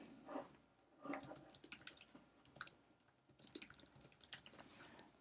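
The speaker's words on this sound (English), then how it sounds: "Let's go ahead and type that in." Rapid keystrokes clatter on a computer keyboard in a quiet room, a close, steady stream of light clicks with brief gaps, no voices.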